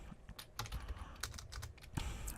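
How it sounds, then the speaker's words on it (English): Typing on a computer keyboard on a Windows 10 computer: a close, irregular run of crisp key clicks with small pauses, and no voices. "What I did is I typed in"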